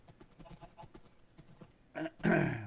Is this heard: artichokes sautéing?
no